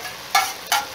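Khara masala chicken being stirred and fried over high heat, a steady sizzle broken by three sharp scraping stirs against the pan, close and fairly loud.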